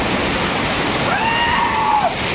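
Waterfall roaring steadily in an outdoor setting, a loud, constant broadband rush of flowing water with a faint whistle-like sound sliding over it briefly.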